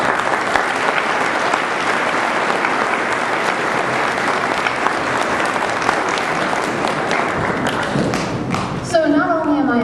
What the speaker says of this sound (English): I think you guys deserve a round of applause for what you've put together, faculty and students